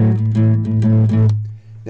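Fingerstyle guitar over an A, the bass rocking between the root and fifth, sixth and flat seventh in a quick, bouncy pattern of plucked notes, close and alone, with a new chord struck just at the end.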